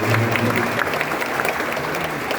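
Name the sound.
round of applause for the city councillors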